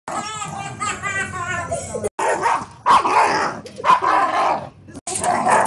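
A dog barks and yips at an ironing board, giving loud, close, excited barks in uneven bursts with some whimpering. A person talks between the barks.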